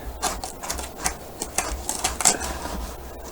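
Skateboard grip tape being cut off along the edge of the board with a blade, producing a quick series of close, crisp scratchy rasps and clicks in an irregular rhythm.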